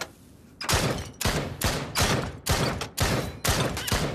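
Video game gunfire at zombies comes as a steady string of about eight loud, punchy shots spaced roughly half a second apart, each with a short booming tail, close and dominant with no talking.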